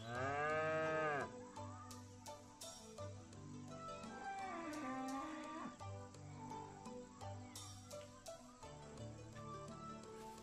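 A bull bellows with long, loud, drawn-out moos that rise and bend in pitch, several calls following one another close to the microphone, with some sharp clicks and knocks in between.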